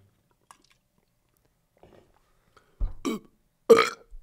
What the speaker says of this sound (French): T'as fait comme un double rot.